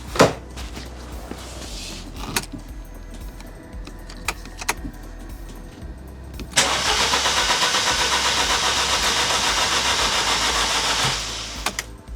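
A Ford Puma or Fiesta engine being cranked by the starter, a short attempt followed by a long steady whirring crank of several seconds that fails to catch, close and fairly loud with no talking.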